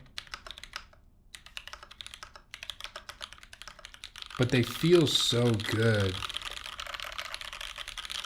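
Typing on a custom mechanical keyboard fitted with medium-heavy 22 mm springs, a quick rattle of keystrokes that starts soft and sparse, then a person talks over continued clacking as the typing grows louder and denser.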